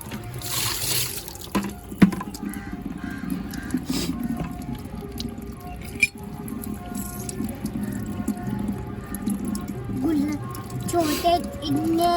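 Water pours and splashes from a bucket into a water balloon in irregular gushes during Holi play, with voices chattering over it and a couple of sharp knocks.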